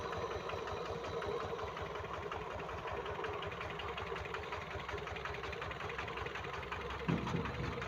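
A generator built from a three-phase electric motor runs, driven by a 10-horsepower diesel power tiller, a steady close chugging engine drone with fast even pulsing and a small knock near the end.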